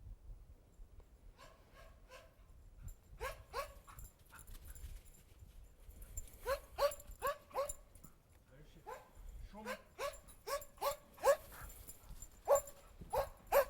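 A search and rescue dog barks and yips in repeated short bursts, some quick clusters and some spaced out, close and fairly loud over a quiet outdoor background.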